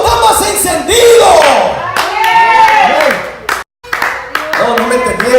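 Church congregation applauding during a Spanish-language sermon, loud dense clapping and crowd noise filling most of the stretch with a brief gap near the end.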